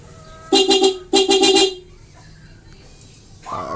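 Two bursts of a Vega Force Fi motorcycle horn, fitted with a fullwave Lihua GY6 rectifier regulator, each a quick series of loud, bright beeps close up, followed by quiet.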